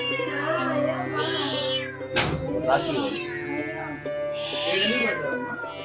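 A cat with injured legs meows several times, drawn-out and plaintive, with a voice talking over and between the calls.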